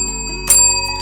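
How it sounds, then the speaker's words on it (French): A bright notification bell chimes once, loud and close, ringing out over a soft sustained tone with no talking. "la petite cloche de notification si tu veux avoir le rappel des nouvelles vidéos qui sortent"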